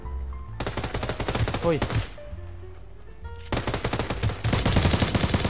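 A sniper rifle in the shooter game Knives Out fires in quick repeated bursts, loud and close, pausing briefly before resuming, with a short spoken exclamation and game sounds in between.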